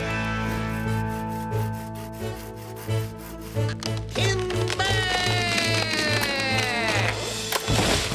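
A cartoon saw cuts down a tree with steady rhythmic rasping strokes, then a bright rising creak as the wood gives way, with a voice briefly heard.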